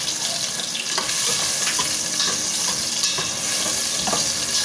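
Onion and ginger sauté in a hot pan for a Filipino tinola, a steady dense sizzle with light stirring scrapes running throughout, close and continuous with no talking.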